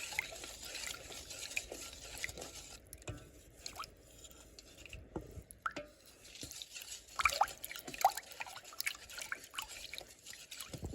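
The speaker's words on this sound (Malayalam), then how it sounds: "നന്നായിട്ട് ഇളക്കി ഒന്ന് യോജിപ്പിച്ചെടുക്കാതെ." Beetroot halwa mixture being stirred and blended, giving soft, faint wet scraping and dripping sounds in an irregular rhythm, close but quiet, with no talking.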